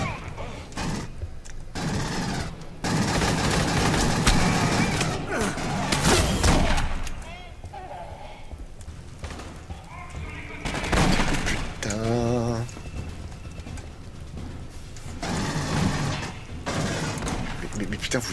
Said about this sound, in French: tu les vois tirer dans les murs